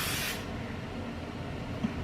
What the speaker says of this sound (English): You just spray it throughout and it just holds everything.